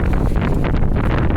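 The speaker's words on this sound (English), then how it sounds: "It's windy out." Strong wind blows along a city street after a big snowstorm, a dense, steady rushing roar close to the microphone with slight gusting throughout.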